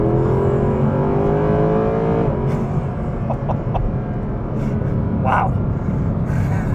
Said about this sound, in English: There's nothing like driving a nice naturally aspirated V8 too.